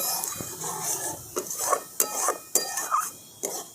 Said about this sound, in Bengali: সব কিছু ভালো করে মিশিয়ে নিই।